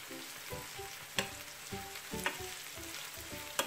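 Chopped garlic and onion fry softly in a pan for baked salt cod, a gentle continuous sizzle punctuated by rhythmic spoon stirs and a few light taps against the pan.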